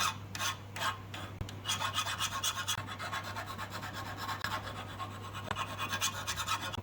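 A hand file rasps across the cut end of a metal clothes hanging rail to remove the burr, giving steady, close back-and-forth strokes over a constant low hum.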